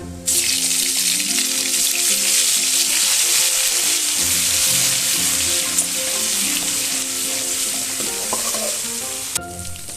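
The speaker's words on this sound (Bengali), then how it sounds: "দু তিন মিনিট একটু মশলাটা আমি নাড়বো।" Cumin paste and nigella seeds fry in hot oil with a loud, steady sizzle that fills the whole stretch, while a spoon stirs and scrapes through the pan now and then before the sizzle cuts off near the end.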